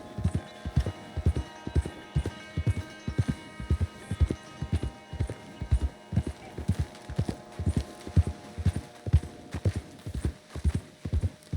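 A horse's hooves clip-clop at a steady walking rhythm in Red Dead Redemption 2, close and even throughout, with someone speaking briefly over the hoofbeats.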